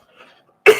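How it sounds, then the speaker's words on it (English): A man gives a single sharp cough, loud and close, after a brief faint breathy rustle. "hopefully I'll stop coughing and spluttering"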